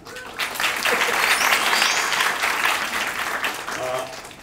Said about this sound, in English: Everybody, a round of applause for him